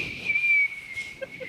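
A person whistles a short, thin, steady tone to imitate a little whistle sound, lasting about half a second, with faint talk around it.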